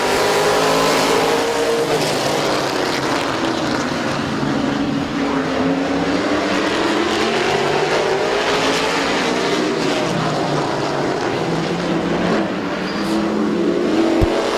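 Race cars battle for the lead at Midvale Speedway, engines droning loud and continuous as they circle, with rising and falling pitch as the cars sweep past the listener.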